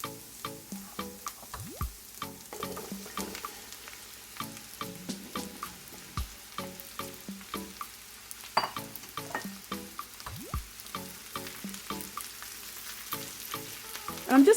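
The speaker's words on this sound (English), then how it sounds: "I'm just going to stir the zucchini around in the onions and the oil until they become softened" Zucchini pieces sizzle in a pan with onions and oil, a soft steady frying hiss broken by rhythmic scraping and clacking of a utensil stirring them around.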